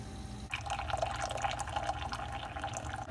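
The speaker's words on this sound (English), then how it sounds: "Just the brew alone makes me way more happy because it's just such a nicer stream." A Keurig coffee maker runs a rinse cycle after descaling, pouring a steady, close stream of water into a cup with a constant, bubbly trickle for a few seconds after a brief click.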